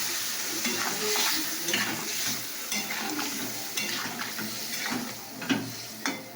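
Steady sizzle and frying crackle from a pan of spiced chili curry as water goes in, with scattered stirring clinks and brief louder bursts over a constant close hiss.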